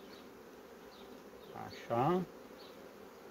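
Honey bees buzz around a hive frame during colony inspection, a steady swarm drone filling the air with individual bees whizzing past; a person briefly speaks a word close by.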